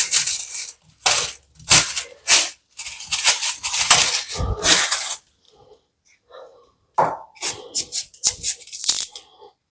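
Elephant foot yam, gone stone-hard from the fridge, being chopped on a board: sharp crunching knife strokes in quick bursts, a pause, then another rapid run of close cuts.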